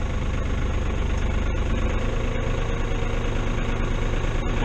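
A diesel farm tractor that had sat unstarted for days idles at about 18 degrees, a loud, steady low rumble with even mechanical knocking throughout and no voices.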